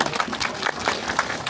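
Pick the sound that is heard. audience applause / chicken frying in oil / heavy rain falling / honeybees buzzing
audience applause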